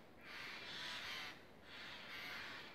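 Crows cawing in a forest, two long harsh bursts of calls separated by a short pause, moderately faint and with no voices.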